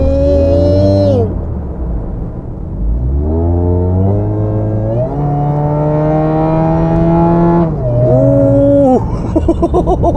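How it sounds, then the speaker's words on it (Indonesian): A high mechanical supercharger whine climbs and falls in pitch with a car's engine as it accelerates on a toll highway, loud and steady inside the vehicle. "Suara nging. Kayak mobil remote control yang nging."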